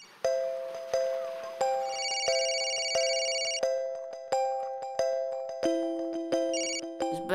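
A phone ringtone plays in regular, evenly spaced electronic pulses, each chime fading before the next, clear and alone with no voices.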